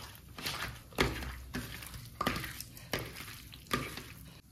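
Chicken pieces being stirred and mixed with chicken masala, cumin and spice powders in a bowl, giving a run of soft, wet, scraping strokes at a steady rhythm, close and fairly quiet, with no talking.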